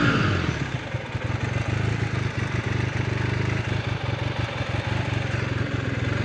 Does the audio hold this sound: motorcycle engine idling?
yes